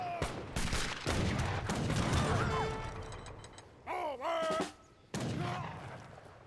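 Carbine Cavalry fire in a battle in the Age of Empires 3 game, with rapid crackling gunshots and mechanical clatter early on, then squealing, creaking game effects and another burst near the end, all fairly faint.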